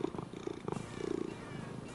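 A cat purrs steadily and close, a soft rhythmic rumble with regular breathing pulses throughout, alone without talk.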